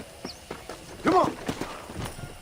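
Horse hooves clip-clop in an uneven rhythm nearby in the video game Red Dead Redemption, with a brief snort or whinny mixed in.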